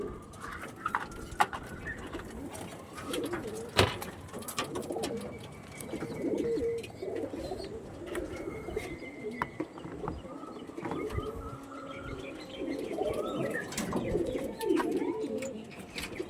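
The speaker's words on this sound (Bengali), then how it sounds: "একটা লাল ফুল কোয়ালিটির, মানে লাল ফুল ঘরের পায়রা আছে" Andhra pigeons in a loft coo softly and repeatedly, low murmuring calls overlapping at moderate distance, with scattered clicks, wing flutters and knocks through the background.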